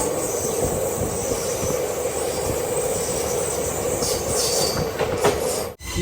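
An InterCity Express train running from Delhi to Shri Ganganagar rolls through a crowded rail yard with a continuous rumble, rhythmic clickety-clack and high wheel squeal, close and loud throughout without speech.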